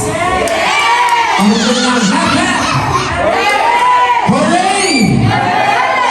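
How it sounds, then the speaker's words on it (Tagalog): A lively crowd at a birthday celebration and baptism program cheers and shouts loudly and continuously, with children's high whoops rising above the mass of voices and steady clapping underneath. "Magpalapakan na tayo ng may kasamang hiyawan."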